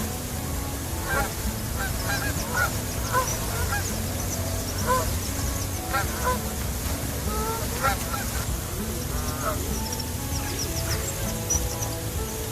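A flock of wild geese flies over on a cold, sunny morning, honking repeatedly in overlapping calls at moderate distance, over a steady windy outdoor rumble.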